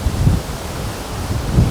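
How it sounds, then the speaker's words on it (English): Strong gusting wind of about 45 mph buffets outdoors, a loud, steady rumbling roar with two heavier low gusts, no voices. "I mean, it is still nasty and windy,"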